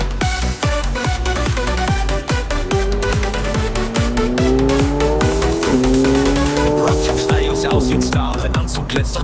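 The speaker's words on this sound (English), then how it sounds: "The audio is being picked up on this car's amazing exhaust." A loud sports car engine revs and roars through rising gear changes, the exhaust crackling and popping between shifts, close and continuous.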